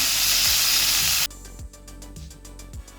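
Coriander leaves sauté in a pan for chutney, giving a loud, steady frying hiss that stops suddenly partway through. Quieter scraping stir taps follow at intervals.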